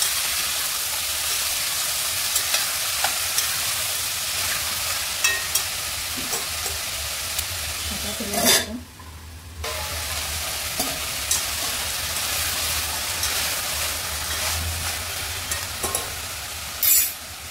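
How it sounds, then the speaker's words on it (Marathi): Vegetables including brinjal fry and are stirred in a pan, making a continuous close hiss and sizzle with light scraping. The sizzle cuts out briefly around the middle, then resumes just as strong. "दोन तीन वेळा झाकण ठेवून चांगल्या भाज्या फ्राय करून घेऊया"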